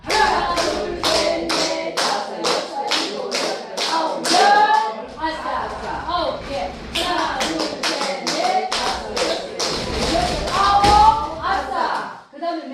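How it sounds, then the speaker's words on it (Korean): A group at a health and natural healing session claps in unison, a run of sharp, evenly spaced claps that pauses and resumes, with a voice calling out over them and laughter mixed in. "자, 박수 열개 시작"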